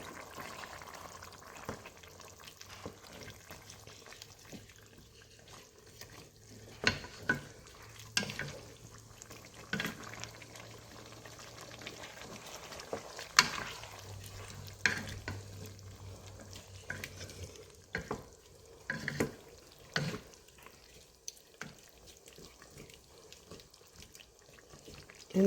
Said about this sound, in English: Mix the potatoes in.